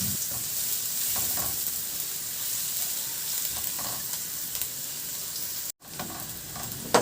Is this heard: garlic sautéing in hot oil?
yes